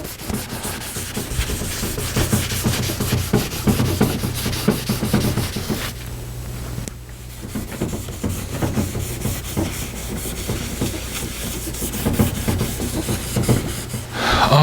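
Part of a Les Paul guitar rubbed clean with a cloth and lighter fluid, a steady close rubbing and scrubbing with brief pauses, no talk.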